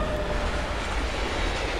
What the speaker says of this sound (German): Gerade an uns vorbeigezogen. Müsste Baureihe 152 gewesen sein.